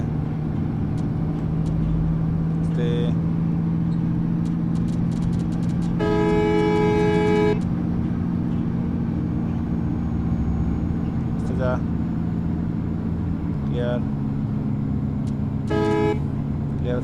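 A Sakura bus engine drones loud and steady as it pulls hard along a Bangladeshi road between Bogura and Rangpur. Repeated horn blasts cut over it, and someone talks throughout.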